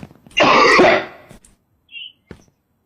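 A single loud, harsh cough burst close to the mic, followed by a couple of faint short throat noises trailing off into quiet.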